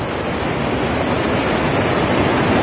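A mountain waterfall in Uttarakhand roars steadily, with a dense, constant rush of fast-flowing water filling the sound close by and no voices.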